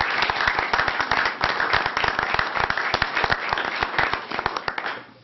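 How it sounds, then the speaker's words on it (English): Applause at a city council meeting after an employee is honored for 40 years with a turkey processing company; a room of people claps steadily and fairly loudly for about five seconds, with no talking. "I think he deserves a round of applause."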